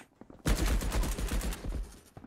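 Rapid automatic gunfire in a video game firefight, a dense burst of loud close shots rattling for about two seconds after a quiet start.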